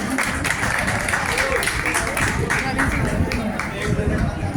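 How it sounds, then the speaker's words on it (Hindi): Loud audience applause at a college farewell party at GDC Zaheerabad, a dense continuous wash of many hands clapping with crowd murmur and voices underneath. "जोरदार तालियों की आवाज में सर का इस्तेमाल कीजिए।"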